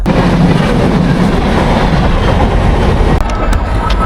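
Loud, continuous rumble of a train rolling past close by, steady throughout.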